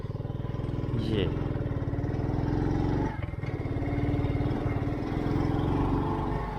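Motorcycle engine droning steadily during a ride, loud and continuous with a brief dip midway, while someone talks over it.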